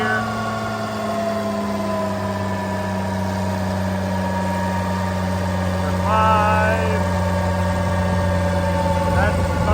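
An Oliver 770 tractor engine runs at a steady, even drone while its PTO turns at 540 rpm under a dynamometer, with a slight lift in pitch partway through.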